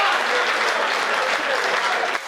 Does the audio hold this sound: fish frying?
no